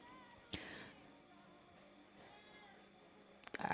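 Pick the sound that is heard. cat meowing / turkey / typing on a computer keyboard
cat meowing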